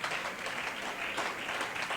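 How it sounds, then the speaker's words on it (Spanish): A church congregation claps in steady, dense applause, a continuous wash of many hands filling the room at moderate level for the whole moment. "dele ese aplauso con alegría al Rey"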